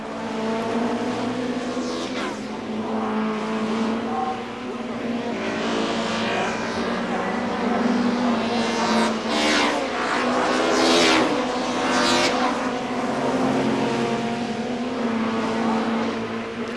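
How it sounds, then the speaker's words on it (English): An Audi four-wheel-drive race car roars around a racetrack, its engine revving loudly and continuously with rising and falling pitch as it accelerates and shifts, with no pauses over the whole stretch. "Audi has also introduced a 4-wheel drive car to a racetrack for the first time."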